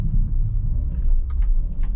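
A Ferrari Portofino engine gives a low, steady rumble as the throttle is opened, heard from nearby, with faint thin sounds flickering toward the end.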